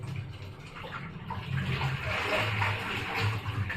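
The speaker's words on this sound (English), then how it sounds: "let's run this water" Water pours and splashes steadily from a shower in a continuous hissing rush, growing slightly stronger partway through; the water runs brown with debris.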